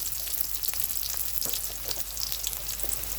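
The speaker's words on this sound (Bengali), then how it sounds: "শুকনো মরিচটা আমরা তেলে ভেজে নিচ্ছি" Dried red chilies fry in white soybean oil, giving a steady, close crackling sizzle with small pops and no talking.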